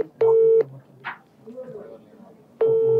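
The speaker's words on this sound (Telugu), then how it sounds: "అందుకే వాళ్ళకి ఫోన్ చేస్తాం, డైరెక్ట్ లైవ్ లో ఫోన్ చేసి ప్రయత్నం చేస్తున్నాం" A telephone dials out for a call, giving two loud, steady ringback tones separated by a pause, with faint murmurs between them.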